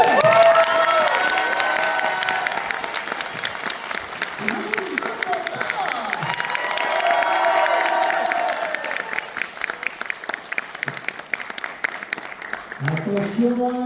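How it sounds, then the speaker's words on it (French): Loud, sustained applause and cheering from a conference audience greeting a French voice actress, with whoops and shouts over dense clapping that swells and stays full for the whole stretch. "faites-moi un tonnerre d'applaudissements pour Maëva Méline"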